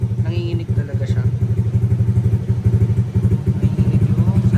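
Honda Click scooter fitted with an Akrapovic exhaust running close by, a rapid, pulsing low engine thump with steady rhythmic beats and clatter as someone talks over it.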